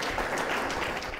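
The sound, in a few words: applause for a debate speaker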